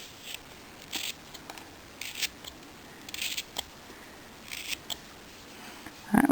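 A knife cuts a piece out of a small carved cat figure in a series of short, close scraping and slicing strokes with pauses between them, ending on a sharper knock; no talking.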